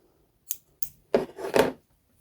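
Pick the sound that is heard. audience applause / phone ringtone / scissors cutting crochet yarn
scissors cutting crochet yarn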